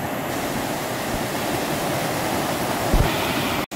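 Steady, loud rushing of river water flows close by throughout as the river is crossed on foot during a rural bike trip in the Konkan region.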